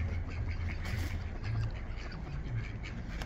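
Ducks on the Thames riverside quack repeatedly at close range, nasal calls over a constant outdoor background rumble.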